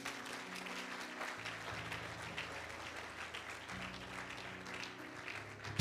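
A church congregation applauds and cheers the Lord, a steady wash of clapping lasting throughout over sustained organ or keyboard chords.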